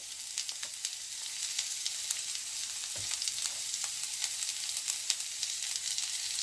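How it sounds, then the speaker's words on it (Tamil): Finely chopped onions sizzle and crackle steadily in hot oil with green chillies, small pops scattered throughout and an occasional stirring knock, no voices. "பொரிய தொடங்கிட்டு இப்போ சின்னதாக நறுக்கின வெங்காயம் சேர்த்துக்கொள்ளுறேன்"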